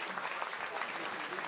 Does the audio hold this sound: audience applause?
yes